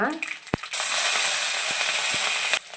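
Green chillies hit hot oil with chana dal for hotel-style potato palya. After a few clicks and knocks, a loud, close, hissing sizzle starts and holds steady until it cuts off near the end.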